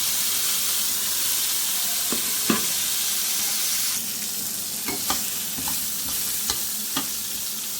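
Raw mango pieces frying in hot oil with mustard seeds and panch phoron for a sweet-sour mango pickle, a steady bright sizzle close up, broken by a few sharp stirring scrapes and pops.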